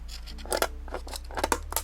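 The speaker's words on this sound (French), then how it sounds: "il va falloir une paire de ciseaux ou un couteau là" Scissors snip through the plastic packaging of a Pokémon tin box in a few close, sharp cuts with crinkling between them, and there is no talking.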